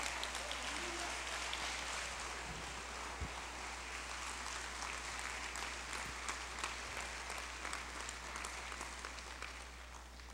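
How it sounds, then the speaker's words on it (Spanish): Congregational applause in a church service, a sustained, even crowd clapping filling the room for about ten seconds, gradually easing toward the end. "Si quiere darles aplauso a Dios"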